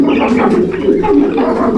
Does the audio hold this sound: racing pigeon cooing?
yes